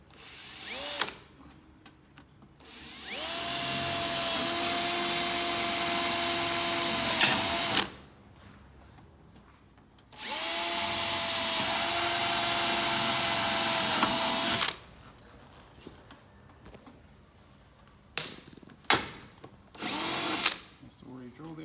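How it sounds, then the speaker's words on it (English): Power drill boring through a caravan panel during restoration of a Liteweight Panorama 506, sounding as two long, steady whining runs of several seconds each, then a few short bursts near the end. "So I'm just going to drill this out now"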